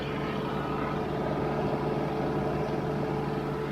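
A Cummins 12-valve diesel in a converted school bus runs steadily at about 1200 RPM with the throttle locked, a loud, even, rumbling drone heard close and without talk.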